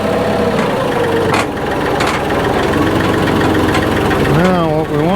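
A tractor engine idles steadily close by, a continuous low rumble with mechanical knocking and rattle. A voice can be heard over it.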